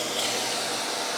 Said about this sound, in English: sucked into the vacuum.